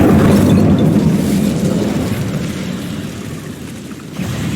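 Incendio fire spell cast in Hogwarts Legacy, a loud rumbling whoosh of flame that bursts at once and slowly fades over several seconds, then swells again briefly near the end.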